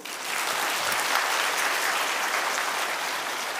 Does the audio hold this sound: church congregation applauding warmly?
yes